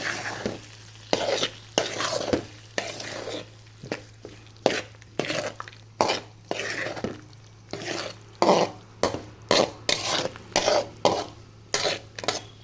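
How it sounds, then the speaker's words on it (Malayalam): Jackfruit pickle is stirred in a pan with a spoon, giving a string of repeated scraping strokes over a soft sizzle. The strokes come slowly at first, then quicken and grow louder toward the end, with no talking. "ഇത് നന്നായിട്ടൊന്ന് നമുക്ക് ഇളക്കി കൊടുക്കാം"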